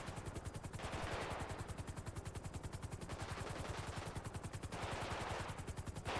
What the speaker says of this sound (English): Still heavy shots being fired down there.